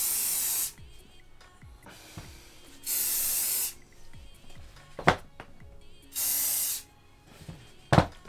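Three long bursts of Crep Protect aerosol shoe protector spray hiss, each about a second, separated by quiet handling noises and a couple of sharp knocks.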